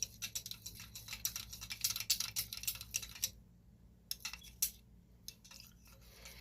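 A spoon stirs a thick coffee and chocolate mix with caramel in a cup, making quick, light metallic clinks and scrapes in a rapid run, then a short pause and a few sparse taps, close and fairly quiet.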